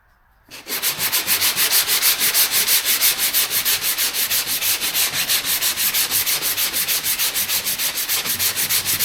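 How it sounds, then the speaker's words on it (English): A soft round foam sanding block works the curved body panel of a custom finned Cadillac hot rod, a loud close rasping scrub in rapid, very regular back-and-forth strokes that run on steadily without pause. "Just got a little soft sander block, nice little round foam block, fits right in this little curved area good."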